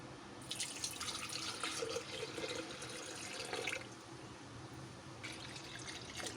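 Milk pouring for a chocolate milkshake, a soft liquid trickle and glug that runs for a few seconds, then resumes briefly, close but faint, with no talking.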